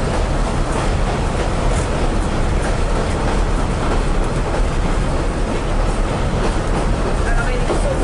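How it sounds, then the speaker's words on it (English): A Pacer diesel train runs between Clarbeston Road and Fishguard Harbour with a loud, steady rumble and rattling carriage noise throughout, wheels clattering constantly beneath. "This is the worst pacer ride I've ever been on."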